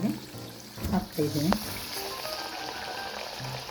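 Masala vada, Tirupati style, frying in hot oil: a steady bubbling sizzle runs throughout, with a few clinks and scrapes from a utensil early on, fairly close.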